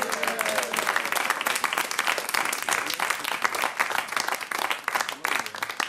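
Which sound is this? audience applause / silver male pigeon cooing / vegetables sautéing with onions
audience applause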